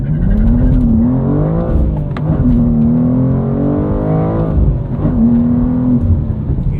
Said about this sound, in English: clutch to the floor, accelerator to the floor, and then you've got a launch control